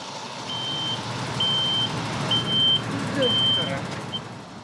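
A heavy truck reverses at a weighing checkpoint with a scale, its backup alarm giving four or five steady, evenly spaced beeps over a low engine rumble, with people talking nearby.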